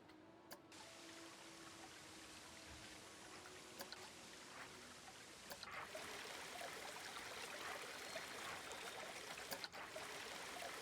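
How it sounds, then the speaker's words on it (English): Soft, steady trickling and flowing water in a Planet Coaster theme park scene, a faint continuous stream with a few light splashy accents, no voices. "Special effects, water."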